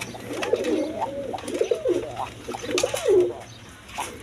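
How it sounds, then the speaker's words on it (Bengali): A pair of Rajgolla pigeons coo nearby in repeated rolling bursts, three or four throaty phrases with short gaps, over a low steady hum. "এখানে এক পেয়ার রাজগোল্লা কবুতর আছে দেখেন"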